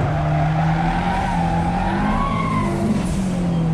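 A turbocharged Fiat accelerates hard with its wheels spinning, a loud, continuous engine drone mixed with tire squeal and skidding noise throughout.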